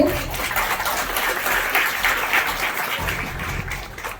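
An audience at a police-run short video competition prize ceremony applauds a winner receiving an award, producing a steady wash of many hands clapping that fades slightly toward the end.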